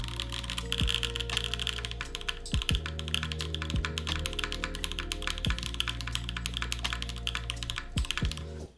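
Fast, continuous typing on a Lamy TKL mechanical keyboard during a custom build, a dense stream of close, crisp key clacks over a steady low tonal background.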